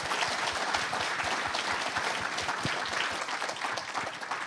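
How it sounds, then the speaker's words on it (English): Sustained audience applause for two doctors at a conference on nicotinic systems in brain disorders, dense and steady clapping throughout without speech. "A round of applause for the two doctors here"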